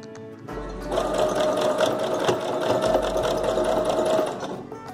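A sewing machine runs steadily for a few seconds, a close, rapid mechanical whirring as it stitches the folded triangular corner of a dupatta, starting and stopping cleanly.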